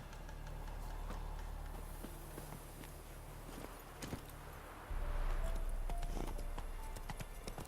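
Hoofbeats of a horse in The Witcher 3 run in a steady clip-clop rhythm over a background game score, growing louder and busier midway as the horse picks up pace.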